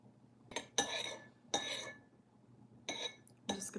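A metal spoon clinks against a dish in a home kitchen while homemade noodles are being prepared, giving a few bright, sharp taps spaced apart at close range with quiet pauses between.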